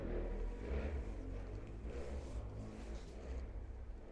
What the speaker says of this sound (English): Ignore the motorcycle outside.